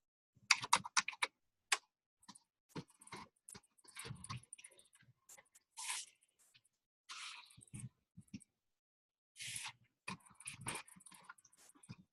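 Irregular bursts of keyboard typing clatter close by, quick runs of keystrokes broken by pauses, with a few sharper taps mixed in.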